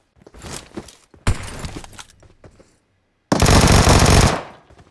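Gunfire in the mobile game PUBG Mobile comes in three close, loud bursts: two short rattling volleys, a pause, then one long sustained burst.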